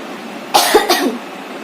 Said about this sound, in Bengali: গরমে তো গলা শুকাচ্ছে, কথা বলতে গিয়েই কাশি হচ্ছে।